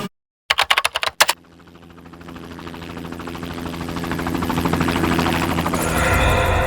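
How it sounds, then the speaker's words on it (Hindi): After a few sharp clicks, a helicopter's rhythmic rotor thudding rises steadily and grows louder as it approaches. "ये हेलीकॉप्टर की ही आवाज है"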